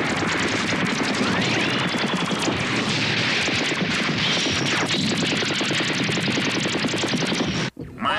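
Rapid, continuous heavy fire from a spaceship's super cannon in an animated space battle hammers away loudly in a dense barrage, ending abruptly near the end.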